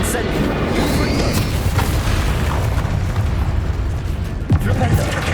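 Explosive Confringo spell blasts booming in Hogwarts Legacy combat, a continuous roar of loud bursts and crashes with a sharp pop near the end, with a voice speaking over the din.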